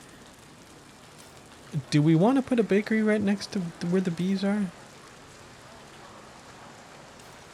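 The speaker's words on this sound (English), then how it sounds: "It's raining." Rain falls in the video game Foundation as a steady soft hiss. A person talks over it partway through.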